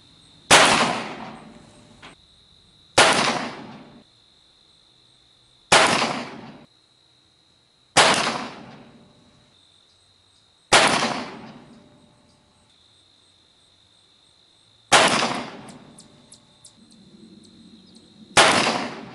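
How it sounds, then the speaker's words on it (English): .45 Colt revolver shots fired outdoors in a powder placement test, seven loud, close reports spaced a few seconds apart, each ringing off with a decaying tail, and a steady high tone running underneath. "We'll shoot our first shot."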